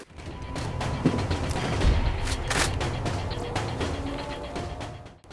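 Scattered gunfire and impacts in the video game Borderlands, a busy, mid-level jumble of shots, crashes and mechanical clatter with a few sharper bursts standing out.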